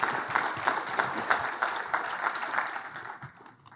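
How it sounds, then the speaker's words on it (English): Brief audience applause for the event organizers at an enterprise technology conference, a steady patter of many hands clapping nearby that thins out toward the end. "maybe we can have a brief round of applause for Jeff and BrainXchange"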